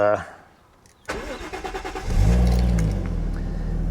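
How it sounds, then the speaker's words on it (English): A Toyota Soarer with a 1JZ VVTi engine cranks over briefly with a whirring starter, then catches and settles into a loud, steady idle close by. "If we start the car"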